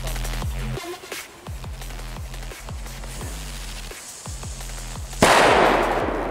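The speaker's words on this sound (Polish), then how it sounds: "Przejdźmy sobie z testem petardy Jorge i zobaczmy, jak ona wypadnie" A Jorge FP3 firecracker goes off, with a rapid run of sharp crackling bangs followed by one loud, close blast that leaves a hissing noise trailing off.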